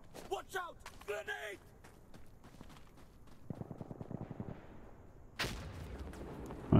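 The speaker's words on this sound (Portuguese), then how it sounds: "Vou jogar a granada ali em cima." A grenade thrown in Insurgency: Sandstorm bounces with a burst of rattling impacts before a loud, sharp explosion at the end; a voice speaks at the start.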